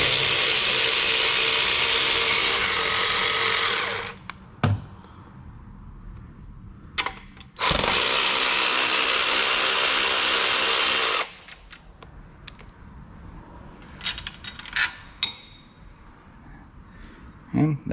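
A ratchet wrench loosens two 13mm nuts holding a suspension brace on a Ford Escape during CV axle replacement, giving two long, loud bursts of rapid clicking with short metallic taps and handling noises between them, no talking.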